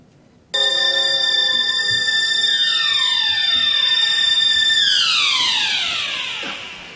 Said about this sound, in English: it starts with an alarm clock.